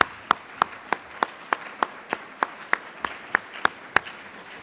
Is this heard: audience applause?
yes